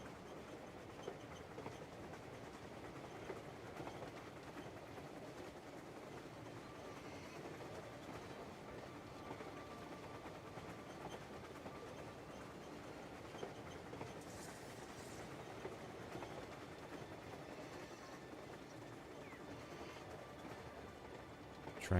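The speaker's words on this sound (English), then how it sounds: "Just riding the train." Quiet train ride in the video game Crimson Desert: a steady rolling rumble with faint rhythmic clickety-clack of wheels over rail joints, continuous throughout with no talking.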